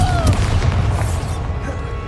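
The Confringo fire spell bursts in Hogwarts Legacy, a heavy booming blast with a fiery whoosh that rolls and fades over a couple of seconds, loud and close, with a voice calling out briefly.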